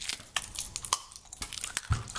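Crunchy Japanese chocolate candy being chewed up close, a string of sharp irregular crunches and bites, fairly quiet with no talk.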